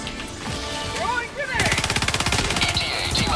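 Strafing run in Helldivers 2 producing a rapid, steady stream of heavy automatic gunfire that starts abruptly and keeps pounding, with a player's voice faintly heard underneath.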